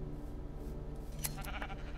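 A sheep in the Minecraft modpack Sky Factory 2 gives a couple of short, fairly loud bleats in quick succession near the end, over a steady low game background with no voices.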